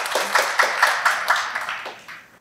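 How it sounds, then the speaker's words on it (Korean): Audience at a workplace innovation case-sharing forum applauds as a labor attorney is handed the microphone, a fairly close, loud burst of clapping with distinct individual claps that gradually fades out. "박수 부탁드리겠습니다."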